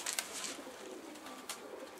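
A tumbler pigeon coos faintly among other birds outdoors, soft low calls set against a steady background hiss.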